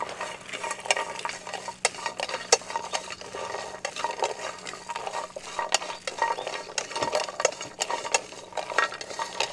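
Whole pho spices, large pieces first and small ones after, dry-roasting in a pan, with steady scraping and stirring taps and a faint toasting crackle close up, no speech.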